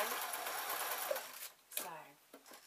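Home sewing machine running a double zigzag stitch, a close busy mechanical whirr for over a second that then stops, leaving a few soft knocks and handling sounds.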